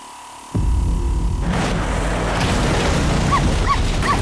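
A dog in an anime finale barks and whimpers after a sudden loud burst, with short high yelps and whines near the end over a dense rumbling background.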